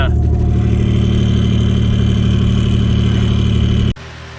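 A single-turbo Ford Taurus pulls hard under acceleration, a loud, dense engine roar with a sustained high turbo whine riding over it, then cutting off abruptly near the end as the throttle closes.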